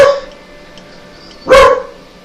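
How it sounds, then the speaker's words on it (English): A dog barks loudly and close, with one sharp bark at the start and another full bark about a second and a half later, separated by quiet. "She's genuinely just barking at nothing."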